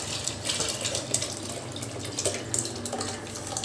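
Water poured into a pot of Kaalan fish curry, a close, continuous splashing trickle with a few brighter spatters, with no voices.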